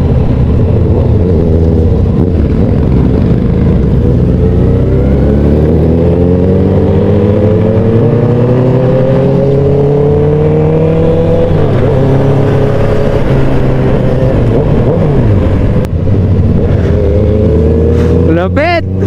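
Big-bike motorcycle engines on a curving mountain road during a loop ride around Albay, a loud continuous drone that rises and falls in pitch as the bikes accelerate through the bends.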